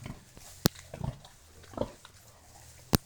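Soft snuffling grunts from eight piglets munching oats, with a couple of sharp squeaky bursts, close by in a quiet setting.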